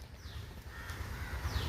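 A crow caws near a papaya tree, a few calls rising and falling over a steady low outdoor rumble, moderately near and fairly faint, with no talk.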